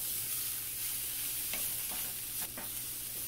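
Banana flower thoran is stirred in a frying pan, a soft steady sizzle with a few scraping strokes of a spoon, close and quiet.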